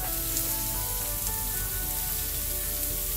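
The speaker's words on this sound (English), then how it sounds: "I'm going to add our sliced onions" Sliced onions sizzle steadily in a hot pan, a close, even frying hiss with no talk over it.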